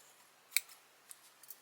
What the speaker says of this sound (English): I'm going to clip this, if these scissors will work.